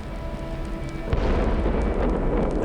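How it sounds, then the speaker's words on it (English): A rocket blows up on its launch pad as fuel tanks go off, a sudden deep boom breaking into a loud, sustained roaring rumble that fills the remaining seconds. "and there was a tremendous explosion."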